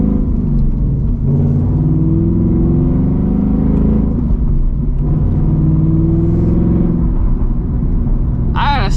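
A Ford Mustang GT S650 with its rear seats removed drones loudly from the exhaust inside the cabin, a continuous low, rumbling tone that holds steady throughout.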